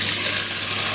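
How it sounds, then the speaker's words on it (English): Tap water runs hard into a cooking pot in a home kitchen, a steady close-up hissing gush with no break for the whole second. "we wanna fill this pot with water"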